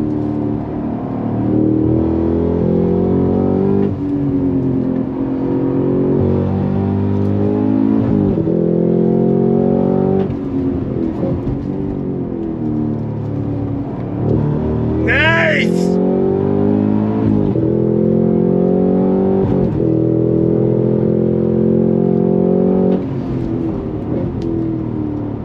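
A 2023 Cadillac CT5-V Blackwing performance sedan pulls hard on a track, its engine note rising and falling through gear changes from inside the car, loud and sustained, with a brief tire squeal midway.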